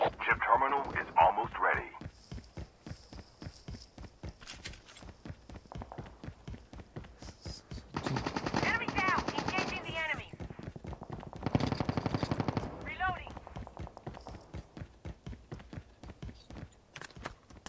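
Rapid bursts of gunfire from the mobile shooter Call of Duty Mobile, repeated sharp cracks through the clip, mixed with game noise and someone talking over it.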